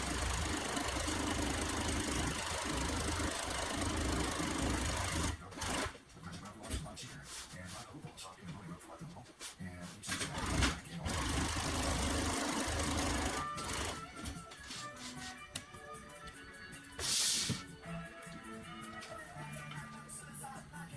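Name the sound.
sewing machine double stitching a cover with thread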